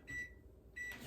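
Kitchen oven control panel beeping as it is set to preheat, two short electronic beeps separated by a brief pause, close and fairly quiet.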